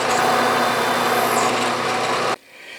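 Steady whine of a drill press cutting into a cast iron wood vise casting, close and continuous for over two seconds before stopping abruptly into a quiet room.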